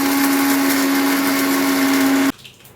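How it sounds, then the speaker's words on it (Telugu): A mixer grinder roars loudly and steadily as it grinds peanuts for chutney, a constant high whir close by that cuts off abruptly near the end, leaving faint room noise. "గింజలు గ్రైండ్ చేసుకోవాలి."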